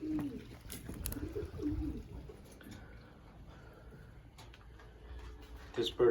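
Racing pigeons coo softly in a loft, low repeated calls rising and falling against a busy room tone, with faint voices and small clicks and knocks nearby.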